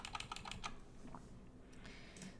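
Rapid keystrokes on a computer keyboard during coding work, clustered in a quick burst of close, crisp clicks at the start, then sparser taps over a low room hum.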